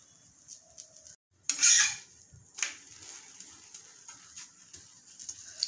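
Methi thepla flatbread roasting on a hot tawa gives soft, intermittent sizzles and crackles with a few clinks of a utensil, close and fairly quiet, with no talking.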